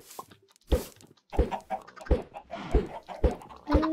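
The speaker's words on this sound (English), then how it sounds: "Over here are the chickens" Minecraft chickens cluck in short, separate bursts, roughly one every half second, each clear and close, with small gaps of quiet between them.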